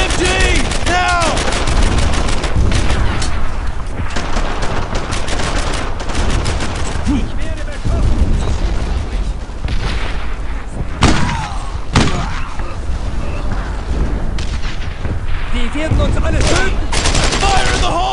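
Machine gun fire in the video game Brothers in Arms, loud rapid bursts with heavy thuds throughout while soldiers shout over the battle.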